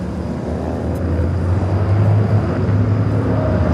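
Dassault Falcon business jet passing at LAX, a loud steady roar with a low rumbling hum that swells slightly toward the middle and holds, heard alone without talk.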